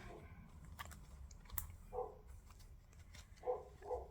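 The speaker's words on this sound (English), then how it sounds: "and there goes my dog, guys." A pet dog barking outdoors some distance away, three faint, muffled barks in the latter half, over quiet room noise.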